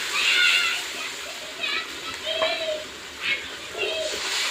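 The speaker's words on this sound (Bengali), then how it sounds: "আমি গ্রেভির জন্য দিয়ে দেবো জল।" Water splashes and sloshes as it is poured into the frying gravy of a fish roe curry made with puffed rice, in short bursts, with a voice heard speaking over it.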